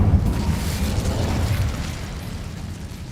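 Incendio fire spell cast in the Hogwarts Legacy video game, a loud whooshing burst of flame that fades over a few seconds.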